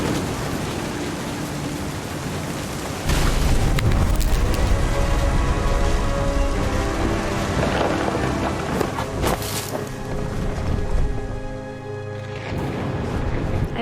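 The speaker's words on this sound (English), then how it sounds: "The thunder sounded much too close and full of angry power." In the What Remains of Edith Finch video game, a thunderstorm brings steady heavy rain noise, with a loud, broad rumble of thunder building and rolling on for several seconds, dense and enveloping, with no talking.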